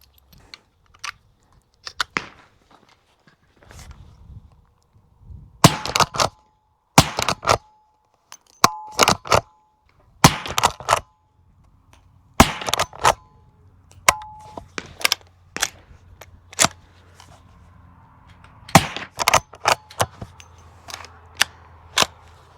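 Suppressed subsonic rifle shots from a GeForce Arms rifle fired across a full magazine at a range, each a sharp, fairly quiet crack in irregular bursts with short gaps, mostly clustered in the middle and end.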